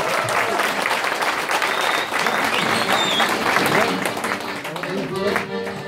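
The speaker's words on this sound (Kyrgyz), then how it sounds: "Бир кол чаап коюңдарчы" Applause from an audience at a live Kyrgyz concert, steady dense clapping sustained throughout, fairly loud with a crowd feel and some voices mixed in.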